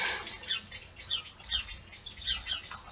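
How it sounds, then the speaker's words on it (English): Small garden birds call in quick, repeated high chirps and twitters, alarmed by prowling cats, moderately close and heard alone without talk. "Can you hear those birds making a noise? That's because the cats are on the prowl and they're protecting their chicks."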